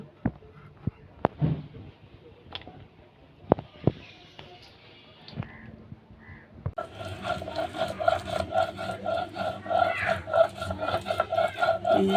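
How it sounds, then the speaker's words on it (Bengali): Garlic and ginger are ground by hand on a flat stone slab, giving scattered sharp knocks and then a steady, rhythmic rasping scrape with low background noise. "রসুন বাটছি আদা বাটা হয়ে গেছে আমি শিলপাটায় বেটে নিই রসুন আদাটা"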